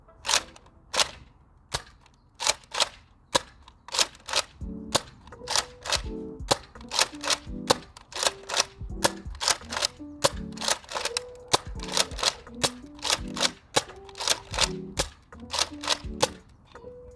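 A Nerf Elite Rampage blaster fires Adventure Force darts in quick succession. Each shot is a sharp, close pop, and mechanical clacks of priming sit between the shots in a steady rhythm.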